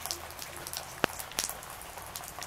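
Rain falls steadily in a swamp forest, a soft continuous patter with a couple of sharper nearby drops striking a surface; no voices.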